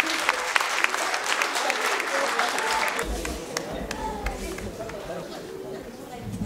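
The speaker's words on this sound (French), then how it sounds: "Merci de l'applaudir encore une fois" An audience at a graduation ceremony applauds a graduate with a broad, continuous patter of many hands, loudest at first and tapering into crowd chatter and scattered claps.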